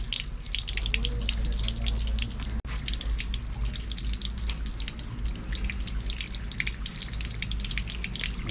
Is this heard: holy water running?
yes